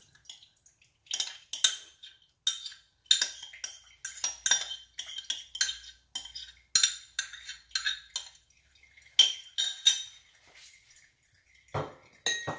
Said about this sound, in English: Now you're going to get another container with a strainer and scrape it straight inside of it like this.